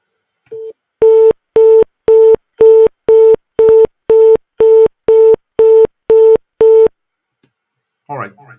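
A laptop browser plays a phone call tone, with twelve evenly spaced steady beeps in a regular rhythm, clear and close, followed by a brief burst of voice at the end.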